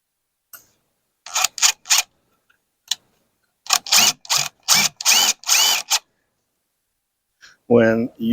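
A power drill drives fasteners into 2x4 lumber with no pre-drilling for an outdoor storage box, coming in short separate bursts, then a quicker cluster of whirring runs, with a voice breaking in at the end.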